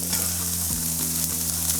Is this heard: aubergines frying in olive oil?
yes